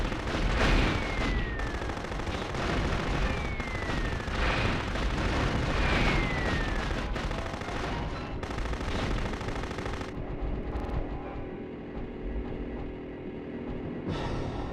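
Rapid, sustained machine-gun fire and explosive blasts from Future Cop LAPD, loud and dense for about ten seconds before settling into a lower rumble with scattered shots.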